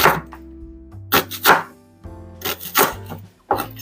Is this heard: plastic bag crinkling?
no